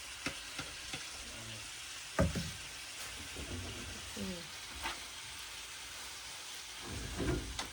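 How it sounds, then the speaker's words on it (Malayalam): Food frying in a pan in a village home is stirred, a steady sizzle under scattered scrapes and clinks of the utensil, with a few brief louder knocks. "ഇതാ ഞാനവിടെ ഇളക്കിക്കൊണ്ടിരിക്കുന്നു"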